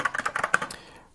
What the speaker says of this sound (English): I will briefly demonstrate just typing on this